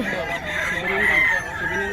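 Chickens cluck loudly close by while a rooster crows in a long drawn-out call, with faint background voices underneath.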